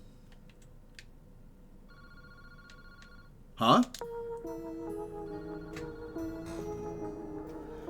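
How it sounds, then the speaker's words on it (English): A telephone rings in a horror mystery game set in Honjo, a steady electronic ring with repeated tones following a sharp burst, heard fairly close with a brief spoken exclamation over it. "Boss, that phone is ringing."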